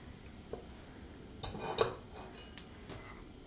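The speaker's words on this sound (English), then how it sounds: "Coconut oil. Stir it around." A utensil scrapes and taps against a cooking pan while coconut oil is stirred, a few quiet clinks and one brief louder scrape, fairly close and otherwise subdued.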